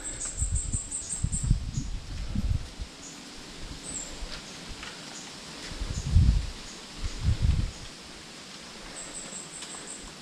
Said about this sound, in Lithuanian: Bambukai sausi, tik tai šnara.